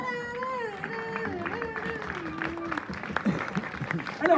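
A theatre audience applauds a comedy stage show, the clapping swelling into dense, scattered hand claps after a stretch of voice with tonal, sung-like sounds.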